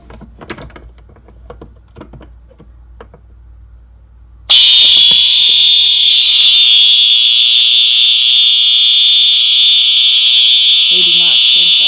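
Fire alarm system set off by pulling a manual pull station: after a few quiet clicks and handling noises, a loud, piercing electronic alarm starts abruptly and sounds continuously at close range for several seconds.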